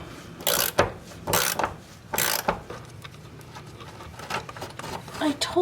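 A wrench works a rusted bolt on a C4 transmission during an overhaul, producing several loud, close ratcheting and grinding bursts with quieter scraping between them.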